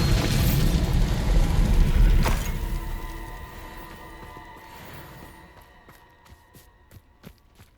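A Bombarda spell explosion in Hogwarts Legacy bursts loud and broad at the start, then rumbles and decays over several seconds, leaving scattered faint clicks and pops as it fades.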